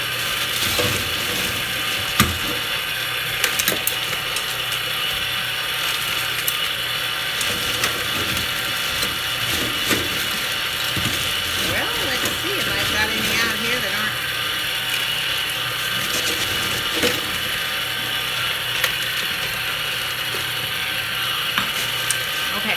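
An electric ice cream maker packed with ice churns banana cream pie ice cream, a steady mechanical grinding and clicking whir running continuously at close range, with occasional faint background noise.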